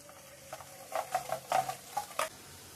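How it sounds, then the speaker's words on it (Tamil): Boondi batter sizzles and spatters in hot oil, with several short crackling bursts over a low steady hiss. "மாவு கரைச்சிட்டு பொரிக்கும்போது காட்டுக்கலாங்க"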